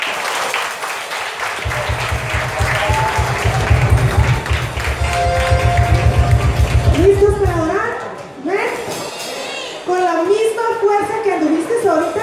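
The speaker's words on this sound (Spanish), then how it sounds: "Denle un aplauso a Jesús bien grande." A church congregation at a Children's Day service claps rhythmically and loudly for several seconds, then falls away to a speaker talking with a few scattered claps.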